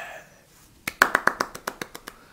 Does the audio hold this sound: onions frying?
no